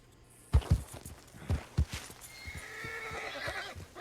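A horse in the Western video game Red Dead Online clops a few heavy hoofbeats, then lets out a drawn-out whinny that fades under a soft ambient game bed.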